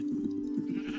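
A Minecraft sheep bleats in one steady, wavering call lasting about a second, fairly loud and alone with no talk over it.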